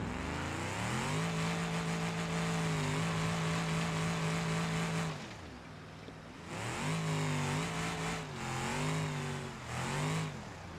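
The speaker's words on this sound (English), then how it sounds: "We'll even put on the nitrous." A truck engine with nitrous revs hard in BeamNG.Drive, a loud sustained droning roar that dips briefly midway and then surges again in several rising pulses.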